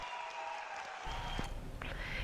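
An audience of around 300 people applauds the mother of judge Sérgio Moro, a steady wash of clapping at moderate distance that swells slightly partway through.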